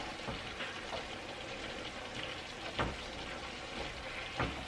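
Lean ground beef (90%) frying in a pan, giving a steady close hiss with a few louder crackles and pops scattered through.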